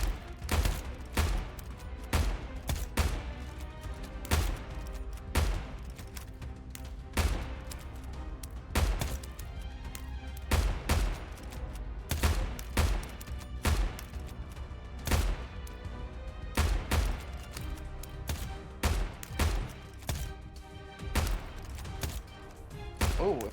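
Repeated gunshots fired at a tuna in the game How to Fish, sharp loud cracks in an irregular rhythm, some in quick clusters, with no talk.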